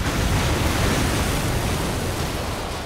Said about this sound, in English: Yep, that was an explosion.